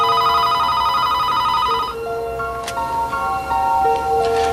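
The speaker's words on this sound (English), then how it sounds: "We were just getting ready to watch a video when the phone rings." A telephone rings indoors in a late-night movie scene, its steady electronic tone sounding clearly for a couple of seconds before the pattern shifts into a series of short repeated bell-like chirps, with no voices over it.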